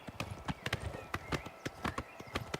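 Horse hooves clip-clop at a steady trot in Oblivion Remastered, a quick run of sharp, close hoof strikes with no talking over them.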